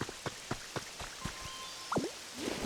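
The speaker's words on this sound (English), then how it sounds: "It's really raining something fierce" Rain falls in the Pokémon Pokopia video game as scattered, distinct droplets tapping and dripping at an uneven rhythm over a soft wet backdrop, with a few brief chirping tones in the mix.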